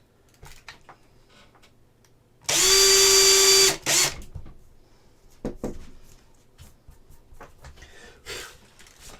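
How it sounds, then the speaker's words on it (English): A power drill bores into a resin model kit part, a loud steady whine lasting about a second with a strained tone, then stopping; quiet handling clatter and soft bumps follow. "Could I drill that?"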